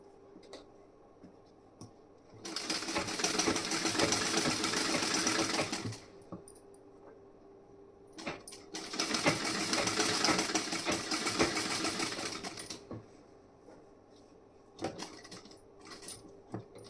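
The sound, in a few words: sewing machine stitching blouse side and back parts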